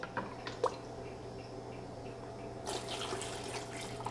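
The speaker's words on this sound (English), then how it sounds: "So I'm gonna add a little bit of this water here." Water poured from a container into a pot of chiles for red menudo: a faint, quiet trickle that swells into a steadier splashing pour over the last second and a half, near and with no talk.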